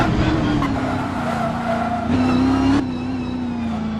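A car in the Assetto Corsa racing game accelerates into a drift, engine droning at a steady pitch that steps up as the throttle opens, with tires squealing loudly throughout and no speech.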